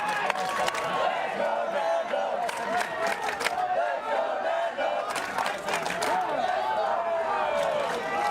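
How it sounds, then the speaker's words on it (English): A loud, vocal crowd at a night high school baseball game between Crescenta Valley and Arcadia shouts and cheers continuously, with voices rising and falling in bursts close by. "We got a real vocal crowd here tonight."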